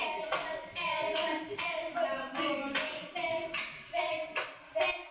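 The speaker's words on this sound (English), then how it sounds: "This is a clapping game. It uses an echo poem." Hand claps from a children's clapping game set to an echo poem, landing in a quick, steady rhythm at close range, with voices faintly chanting along underneath.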